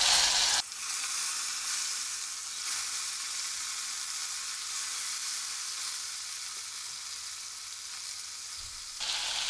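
Chopped brinjals hitting a hot pan of masala for bharli vangi, setting off a loud steady sizzle that drops and holds as they fry, with a light stir near the end and no voices.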